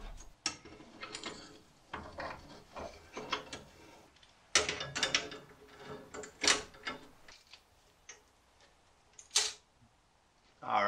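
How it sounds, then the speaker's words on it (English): Clamping a part during a Mustang II front-end swap on a 1966 Mustang: a series of close metallic clicks, ratcheting snaps and clanks at irregular intervals, with short quiet gaps between, no speech. "Now I just need to clamp it, then tack weld this guy on."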